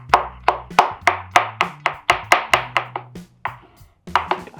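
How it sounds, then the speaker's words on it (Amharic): A knife chops green chili peppers on a cutting board, striking in a steady run of sharp, close knocks with a brief pause before the last few cuts. "በማስከተል እንግዲህ ቃሪያ እንከትፋለን።"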